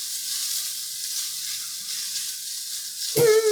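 Chopped onion sizzling in a Dutch oven alongside beef for a Mexican beef soup, a steady close hiss of frying that swells louder at the end as a voice cuts in.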